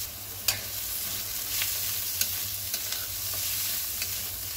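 Vegetables frying in a pan on a low flame, a steady close sizzle with occasional light stirring clicks and taps, no talking.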